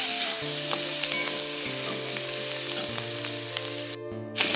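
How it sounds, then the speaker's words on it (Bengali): Potatoes and onion stalks frying in a pan with salt and turmeric give a steady, close sizzle, with repeated scraping stirs throughout and no talking. "দিয়ে আবারও ভালো করে ভেজে নেব"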